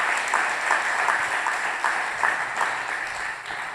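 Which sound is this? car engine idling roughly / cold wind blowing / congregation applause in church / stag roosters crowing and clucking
congregation applause in church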